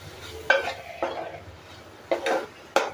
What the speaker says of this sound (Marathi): हे धना जिरा पावडर, हळद आणि गरम मसाला, तर हे पण चांगलं परतून घ्यायचे आहेत मसाले आपल्याला